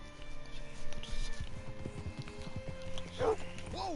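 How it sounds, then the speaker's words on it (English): Horse hooves in the video game Red Dead Redemption 2: a steady clip-clop of hoofbeats at walking pace, with voices talking over it and a brief sharp vocal cry near the end. "Hitch your horse up here."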